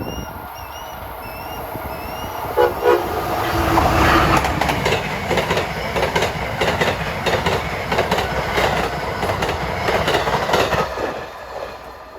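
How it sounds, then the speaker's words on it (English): Amtrak train 91, the Silver Star from New York to Tampa and Miami, rumbles past on the line, a loud sustained roar with rhythmic clickety-clack of wheels over rail joints and brief bird calls at the start. "approaching at 1:36 is train 91, the Silver Star, New York to Tampa and Miami"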